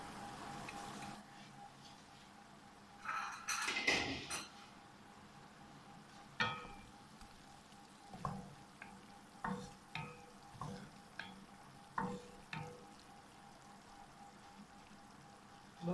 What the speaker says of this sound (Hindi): 2 मिनट हो गए चिकन को पकते हुए।